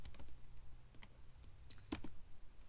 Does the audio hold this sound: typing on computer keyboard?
yes